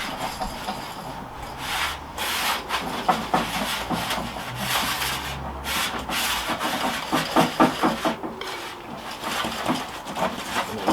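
Coarse salt whisked into a mixture for a salt-crust salmon baked on a kamado barbecue, giving a continuous gritty scraping and rubbing with uneven strokes, close and fairly loud, and no talk.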